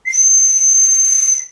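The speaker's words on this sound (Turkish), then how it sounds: "Bak, sana bir düdükçü şeker buldum." A single shrill, steady whistle blown on a whistle candy for about a second and a half, loud and close, with a breathy hiss around the tone.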